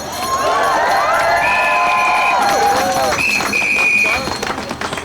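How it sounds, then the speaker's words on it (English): Crowd at an International Women's Day gathering cheering loudly, with shrill whoops, whistles and shouting voices layered over a dense roar, dropping off near the end. "Give it to yourselves a big round of applause."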